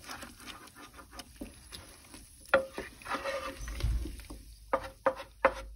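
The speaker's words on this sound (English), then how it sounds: "Give it a good stir." Goulash with white wine being stirred in a slow cooker, a series of soft wet slaps, squelches and spoon taps in an irregular rhythm, close by.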